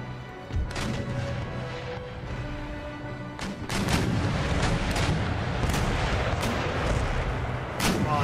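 Warship cannons in a naval battle in Empire Total War fire round shot, heavy booming salvos landing one after another, with a thick rumbling roar that swells and stays dense.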